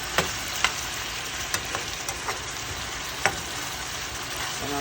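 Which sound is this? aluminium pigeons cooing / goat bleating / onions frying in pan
onions frying in pan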